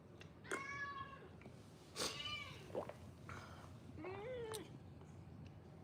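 A house cat meows several times at close range, with drawn-out rising and falling calls separated by short quiet gaps in a calm indoor room.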